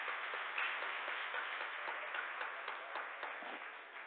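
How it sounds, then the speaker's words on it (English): An audience at a public community panel discussion on gentrification applauds the panelists, a steady, muffled round of clapping heard faintly and evenly before tapering slightly. "Let's give our panelists a round of applause."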